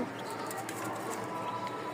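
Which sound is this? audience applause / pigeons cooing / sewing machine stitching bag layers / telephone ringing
pigeons cooing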